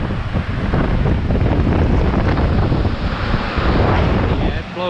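A portable cooler in a car restoration shop blowing cold air, a loud, steady rush of airflow close to the microphone that continues without a break.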